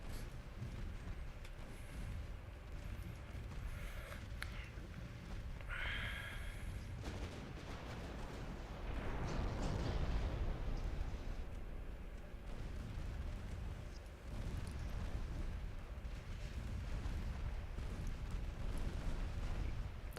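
Warship guns firing in a naval battle game, heard as a rumbling low roar with scattered heavier booms, a louder swell in the middle and mechanical creaks over steady ambient noise, with no talk.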